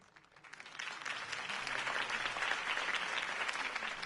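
Crowd applause following a campaign speech in the video game Batman: The Telltale Series, a dense, steady wash of many hands clapping that swells quickly in the first half-second and holds loud and even throughout.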